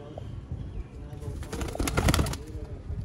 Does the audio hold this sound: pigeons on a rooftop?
yes